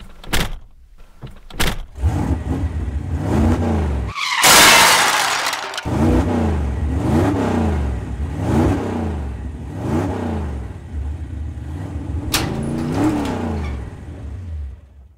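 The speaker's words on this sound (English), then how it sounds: "After loading the car, they got in and drove off to the campsite." A plasticine-animated car pulls away toward a campsite, a door clunk and whoosh followed by a steady, loud engine revving and accelerating with rhythmic swells, no talk.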